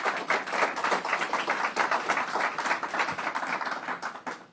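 Audience applause at a state government press conference announcing a ban on bath salts, a dense steady patter of many hands clapping close by, sustained evenly throughout with no talk over it.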